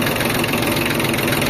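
Loud, steady diesel rumble of a Kubota or Yanmar farm tractor engine running close by, a continuous chugging drone with no talk over it.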